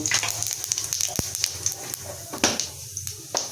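Cumin seeds sizzling in hot oil, a close, continuous crackling hiss with small pops and a brief clatter.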